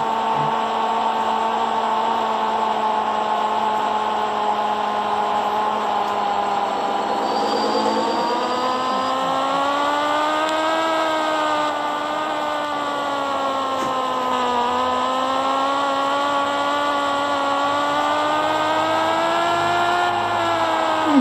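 Engine whine of a motorcycle in the video game Roblox, a loud sustained tone that rises and falls in pitch as the bike speeds up and slows, heard alone without talk.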